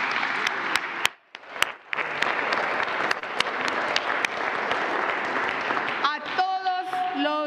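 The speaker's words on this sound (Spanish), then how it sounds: "así que un aplauso," Audience applause at a ceremony honouring the anniversary of Benito Juárez, steady dense clapping filling the room with a brief dip partway through, then fading as a voice begins speaking at the end.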